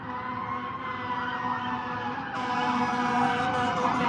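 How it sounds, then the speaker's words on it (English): Wailing fire truck sirens sound steadily from fairly close, layered over dense background noise, growing slightly louder toward the end as the trucks pass. "There are sirens moving every."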